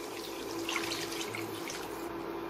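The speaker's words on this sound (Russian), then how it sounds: "Добавляю 700 мл воды." About 700 ml of water pours steadily into a pan in a continuous splashing stream, moderately close, with no voices.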